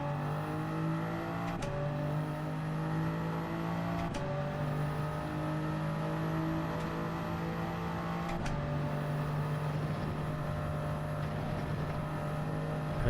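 A race car engine in Gran Turismo 7 holds a loud, steady high drone with rising pitch sweeps, briefly dipping at gear changes before revving up again as the throttle is floored, close and continuous without talk.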